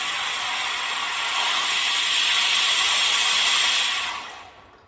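Gas burner fed with oxygen in a chemistry lab, giving a loud, steady roaring hiss that swells slightly and then dies away as the flow is shut off.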